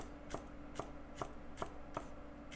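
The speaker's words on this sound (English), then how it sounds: "And just like that chopping sound, right?" A knife chops through fresh jalapeno peppers on a cutting board in six evenly spaced, crisp strikes, close and moderately loud, with a faint steady background hum and no talking.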